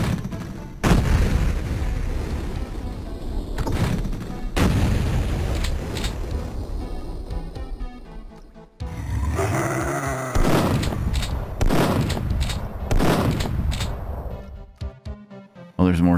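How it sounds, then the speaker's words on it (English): Turret gunfire in the PC shooter Duke Nukem 3D, loud repeated booming blasts and bursts filling most of the stretch, with brief gaps between volleys. "Is that a turret? Oh, it's a turret."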